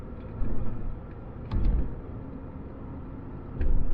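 A 2010 Lexus IS with an automatic gearbox and paddle shifters drives along, its engine heard only faintly as a low rumble that swells and eases in three short surges as it moves through the gears.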